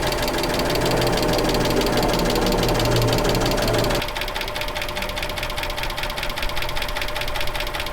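A Mazda 3 engine runs steadily at close range, a continuous even mechanical hum with fine rapid ticking, loud throughout and easing slightly in tone halfway through, with no voices.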